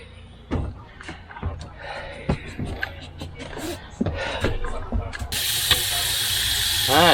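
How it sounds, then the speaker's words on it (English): A water pump runs steadily with mechanical clicking and whirring, the motor hum rising into a louder hiss of water flow toward the end, close by with a few brief sounds layered over it. "Pump's not running bad."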